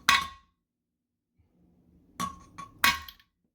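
A hammer strikes a toilet: one sharp, ringing blow at the start, then after a pause three more hard cracks in quick succession, close and loud.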